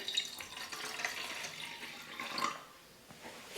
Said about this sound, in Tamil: 1/4 லிட்டர் தண்ணி சேர்த்துக்கிறேன்.